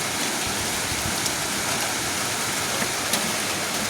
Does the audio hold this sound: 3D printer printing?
no